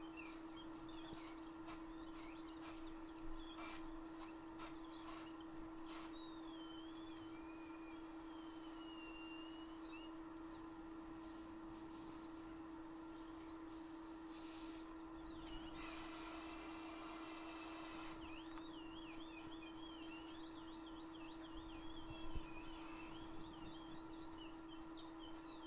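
A hot air rework station blows steadily on the front EMI shield of a dropped iPhone 7 logic board, producing a constant close airy hiss over a low hum, with faint chirps in the background.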